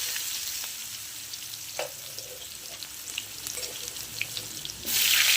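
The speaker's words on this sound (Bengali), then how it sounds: "আলুগুলো আমি একটু লাল করে ভেজে নেব।" Turmeric-and-salt-coated potatoes frying in oil for a chicken curry, a steady close sizzle with small crackles, ending in a sudden louder burst of hissing.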